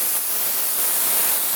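A paint spray gun hisses onto a panel, a short, steady, close burst of broadband spray noise with no voices.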